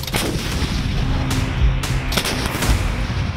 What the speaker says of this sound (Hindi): इन धमाकों की गूंज से दुश्मन का खून सूख जाता है।